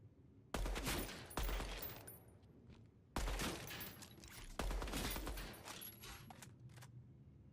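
Bursts of automatic gunfire from the shooter game DEADROP, fired while testing recoil without aiming down sights: several loud, close volleys of rapid shots separated by short pauses, with a ringing mechanical tail after each burst.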